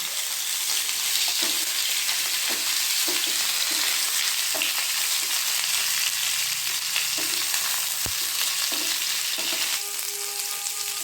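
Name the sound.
frying cauliflower, potato and carrot in a pan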